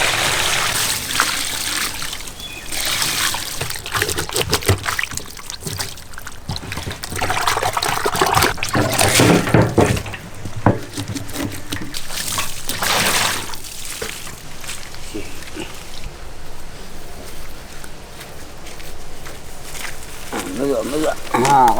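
Water pours, trickles and splashes steadily while goat meat is washed by hand, close and fairly loud throughout, with brief sloshing surges and no voices heard.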